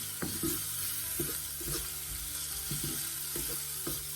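Garlic frying in a small amount of oil in a pan, a soft steady sizzle close by with light, irregular stirring taps and scrapes over it.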